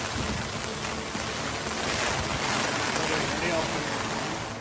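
Heavy rain pours steadily over flooded streets in Kamareddy, Telangana, a dense, unbroken wash of noise that holds constant and loud throughout.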